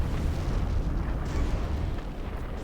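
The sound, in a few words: unit explosion in a naval strategy video game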